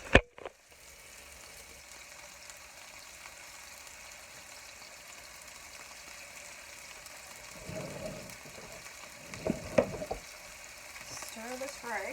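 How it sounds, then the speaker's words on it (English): Rice sizzles steadily in a pan, a constant hiss with occasional scraping and clatter from stirring. "Hear that sizzle sizzle"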